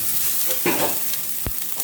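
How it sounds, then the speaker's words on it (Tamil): Onions frying toward golden brown in a pan for mushroom kulambu hiss with a steady sizzle, broken by a couple of close utensil scrapes and one sharp knock. "வெங்காயம் நல்லா கோல்டன் ப்ரௌனாக வதக்கிற அளவுக்கு வதக்கிக்கோங்க"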